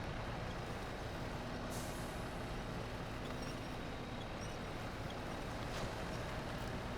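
A truck in the off-road driving game SnowRunner rumbles with a heavy, constant engine drone while it winches another vehicle in and creeps forward, loud and unbroken throughout.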